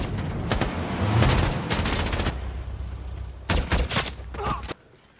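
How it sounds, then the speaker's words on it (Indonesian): Enemy soldiers open fire on a squad in a film battle scene: loud bursts of rapid gunfire come in two clusters, the second volley sharper and more spaced before the shooting stops abruptly. "Tak lama kemudian, Chris dan pasukan ditembaki oleh tentara musuh."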